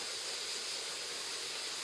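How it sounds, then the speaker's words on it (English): Breakfast food sizzles steadily in a hot frying pan, a continuous close hiss with no talk over it. "I hear them sizzling. They're getting done."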